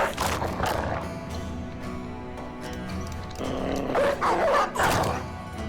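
Several dogs bark and snarl in a video game hunt, a burst of loud overlapping barks at the start, a quieter stretch, then another cluster of rough barks near the end.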